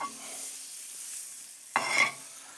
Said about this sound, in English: let's start by sauteing some mushroom. So I have a little piece of butter here.